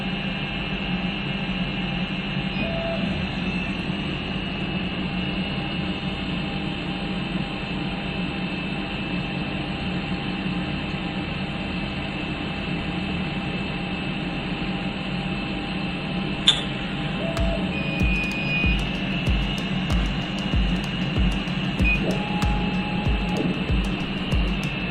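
A laser cutter runs its second cut with a continuous broadband whir and hum from fans and the machine that holds steady throughout. A sharp click comes partway through, followed by faint rhythmic ticking.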